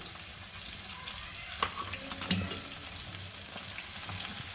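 Green chillies, curry leaves and onion fry in a pan for an egg masala curry, a steady close sizzle with scattered sharp pops and crackles and a few soft stirring scrapes.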